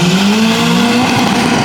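An Opel Corsa and an SR launch side by side in a drag race at Saldanha Drags, engines revving hard in a loud, rising whine with a climbing pitch, close and continuous.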